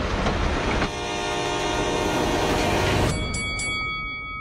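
A train rolls past on railroad tracks, a loud, steady rumble with clanking for about three seconds before it cuts off, followed by several sustained horn tones that ring on afterward.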